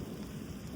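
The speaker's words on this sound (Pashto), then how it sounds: "او اسمان پکې ګرډېږي" A low, heavy rumble rolls beneath steady rain in a village in Swat, a brief stretch of distant thunder within a storm.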